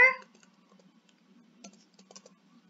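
JavaScript code being typed on a computer keyboard, a few faint scattered key clicks in quiet after a brief sound at the start.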